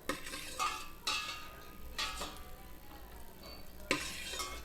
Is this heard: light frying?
yes